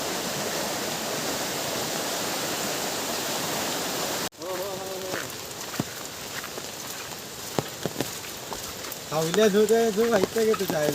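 Dense, steady roar of a rushing river fills the first four seconds, then cuts to quieter water noise with clicks and a voice near the end.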